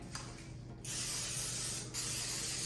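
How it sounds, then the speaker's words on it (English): Two bursts of cooking spray hiss up close into a baking tin, the first lasting about a second, then a brief pause before the second. "you're gonna spray with cooking spray"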